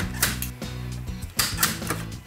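A utility knife trims excess PVC edge banding from a custom-built wooden cabinet for a wood-fired oven, making several close, scratchy cutting strokes in quick succession over a low steady hum, with no talking.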